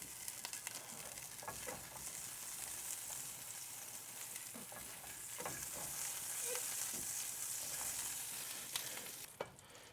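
Grilled cheese toasting in clarified brown butter in a pan gives a continuous crackling sizzle with dense pops and spits, steady and moderately loud for the whole stretch, with no talk.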